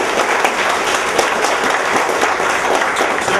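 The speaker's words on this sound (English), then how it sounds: "Please give them a round of applause." Dense, steady applause from a crowd at a Republican U.S. Senate campaign meet-and-greet in Virginia, loud and sustained without a break.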